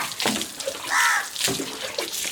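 Running tap water for washing splashes and gurgles in short bursts, close and fairly loud, with no talk over it.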